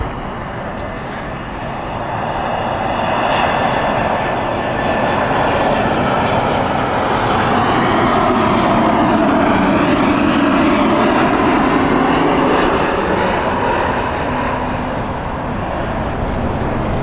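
A Lufthansa airliner at Heathrow roars past with a broad jet engine rumble that swells over the first few seconds and holds steady and loud before easing slightly, with no talk over it.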